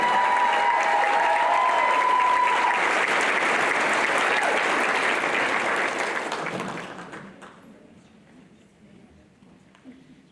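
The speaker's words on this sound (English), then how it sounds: "congratulate by a round of applause" An audience applauds Teacher of the Year finalist Mr. Gary Horn of Booker T. Washington at the Golden Apple ceremony, a full, sustained ovation that fades out sharply after about seven seconds into quiet.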